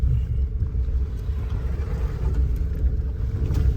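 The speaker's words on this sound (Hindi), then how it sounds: "2 टैक्सी और आ गई।" Vehicles idle and roll up at a jungle safari gate near Mohan on the way to Garjiya, including taxis, with a steady low engine rumble that is close and continuous and has no talk over it.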